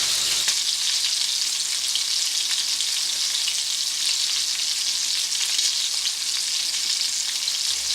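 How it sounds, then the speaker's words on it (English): Seafood frying in a pan makes a loud, steady, dense sizzle that runs unbroken throughout, close up, with no talking. "we'll go ahead and fry these up"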